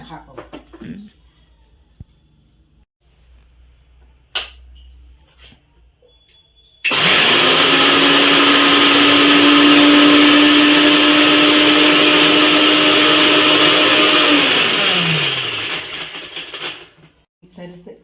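A mixer grinder coarsely grinds soaked chana dal with coconut for vada. After a few light knocks, the motor roars on and holds a loud, steady whine for about eight seconds, then winds down and stops.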